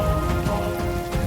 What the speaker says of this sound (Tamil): நானும் மழையில நனையிறேன்